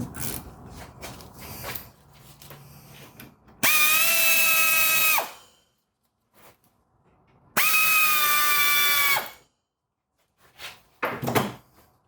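A power tool removes the brake caliper bolts on a Chevrolet Equinox, running in two loud, steady whirring bursts of about two seconds each, with quieter clanks and handling noises around them.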